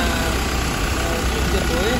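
A 2018 Ford Transit idles with a smooth, steady low rumble while someone talks over it close by.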